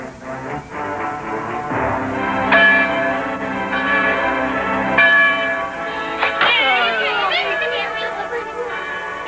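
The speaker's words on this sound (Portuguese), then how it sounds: "Quem tocou o sino?" A cartoon bell rings in several clear, resonant strikes, each tone ringing out and overlapping the next, with a sweeping sound effect near the end.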